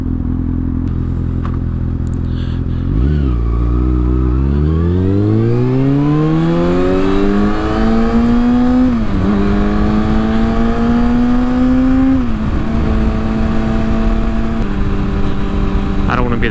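A motorcycle engine revs and pulls loudly while riding on an early-morning commute, the pitch climbing steadily through the gears with brief dips at each shift, wind buffeting throughout and close to the mic.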